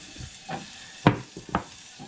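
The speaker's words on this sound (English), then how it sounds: "Get that all stirred in." A spoon stirring vinegar into a BBQ sauce mixture, a few soft scraping strokes and light knocks against the bowl, close and quiet, no talking.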